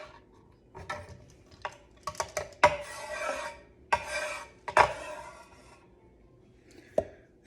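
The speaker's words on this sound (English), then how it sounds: "And I'm going to give that a little bit of a stir here." Carrot being stirred and pounded in a mortar for papaya salad, with irregular scraping rubs and several sharp clinks and knocks, close and fairly quiet between strokes.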